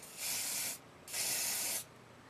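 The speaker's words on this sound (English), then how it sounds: "and then I'll spray." Two short bursts of hissing hairspray, each lasting about half a second, close and fairly soft, with quiet between them.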